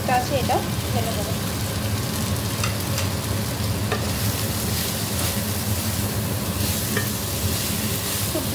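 Fish masala paste sizzles and fries loudly in a hot pan in a home modular kitchen, a steady dense crackle with occasional stirring scrapes, close and continuous.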